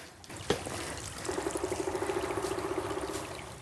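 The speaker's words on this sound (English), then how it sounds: "this trail has just turned into a creek now." Water running steadily down a hiking trail that has turned into a creek, a continuous close rush joined midway by a rapid, even series of tapping knocks.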